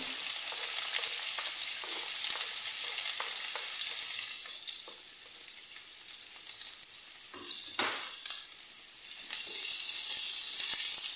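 Chopped onion frying in cooking oil for a minced beef stew, a steady, close crackling sizzle that runs continuously throughout with no voices, with occasional stirring scrapes and a brief dip in the hiss near the end.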